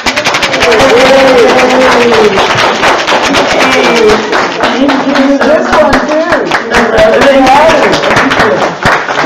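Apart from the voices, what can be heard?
audience applause at church service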